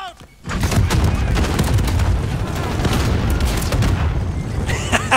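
A grenade blast and a burst of gunfire erupt in a Call of Duty Gulag showers 3x3 match, a sudden loud boom giving way to a dense rattle of shots, with a voice talking over the chaos.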